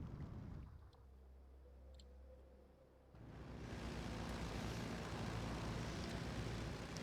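Aircraft rumble swells from a quiet backdrop into a loud, broad sustained roar as planes pass overhead in the World War II strategy game Steel Division II, continuing steadily to the end.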